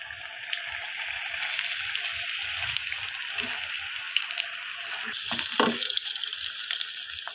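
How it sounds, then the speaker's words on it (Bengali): Eggplant fritters (beguni) frying in hot oil, a steady soft hiss and crackle throughout with scattered pops, moderately faint and close, growing busier toward the end. "এগুলোকে আমি লাল লাল করে ভেজে নেব।"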